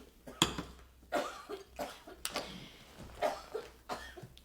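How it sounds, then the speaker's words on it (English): Several sharp coughs spaced unevenly over a few seconds, fairly close, with no talking around them. "Grandma keeps coughing."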